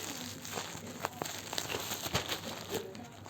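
Package being opened by hand, with close, crisp crinkling of plastic wrapping and scattered small tearing crackles over a few seconds.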